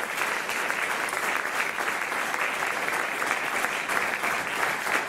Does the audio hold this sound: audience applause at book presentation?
yes